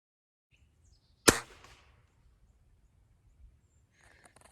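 A single sharp pellet gun shot rings out close by during sighting in, a sudden crack that dies away fast, followed by quiet with faint rustling.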